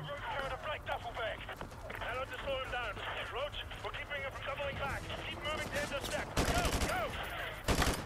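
Heavy gunfire from the Modern Warfare 2 Remastered game rattles in sharp bursts near the end, following a stretch of voices talking over steady combat noise.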